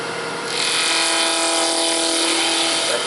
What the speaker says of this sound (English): Watch how clean I can cut it without touching the tool rest.